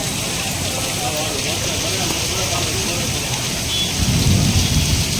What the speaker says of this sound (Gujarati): બરફના ગાંગડા કાયદેસરના પડે લિટરલી